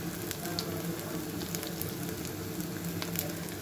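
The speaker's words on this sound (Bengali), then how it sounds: "সেই জন্য রসুন আর পেঁয়াজ ভেজে নিচ্ছি।" Garlic and onions sizzle in hot oil for a khichuri tempering, a continuous close crackle with scattered small pops, fairly quiet and even from start to finish, no talking.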